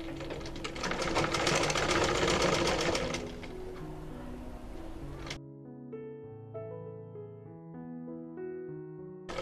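A sewing machine runs a fast, continuous stitching seam on ladies' pants fabric, loud and close for about five seconds, then stops as gentle background music takes over.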